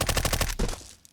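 An MP5 submachine gun in Counter-Strike 2 fires a rapid, evenly spaced burst of about half a second, loud and close, then cuts off and leaves a short fading tail and near quiet.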